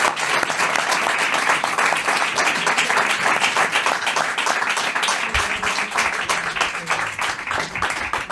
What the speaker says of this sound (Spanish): Pues yo creo que se merece un aplauso, ¿no?